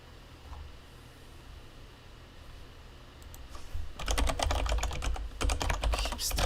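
Typing on a computer keyboard, rapid clicking keystrokes starting abruptly after quiet background hum and continuing densely and close to the end.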